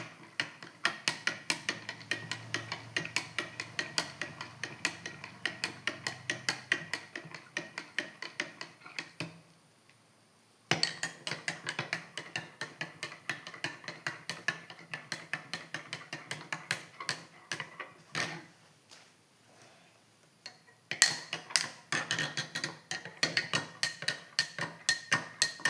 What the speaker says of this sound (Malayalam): നല്ലവണ്ണം ഇളക്കി കൊടുക്കും.